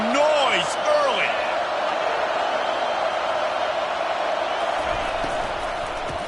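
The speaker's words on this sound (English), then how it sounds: "This crowd bringing the energy and noise early." A football stadium crowd roars in a steady, loud wash throughout, with an announcer's voice rising over it near the start.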